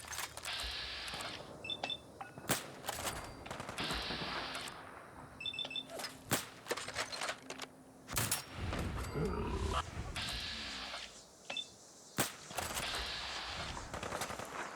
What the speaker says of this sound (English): right after I shoot down these pesky raiders